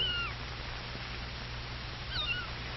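A cat meows twice, a drawn-out cry near the start and another near the end, over a steady low hum with no talking.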